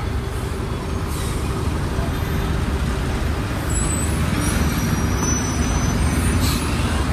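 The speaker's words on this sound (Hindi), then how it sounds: "यहाँ पे देखो ट्रैफिक लगा, चक्का जाम हो चुका है" Road traffic jam at a standstill on a highway in Gujarat, India, with trucks and buses idling; a steady, loud low engine rumble fills the whole stretch, and faint hiss bursts like air brakes sit high above it.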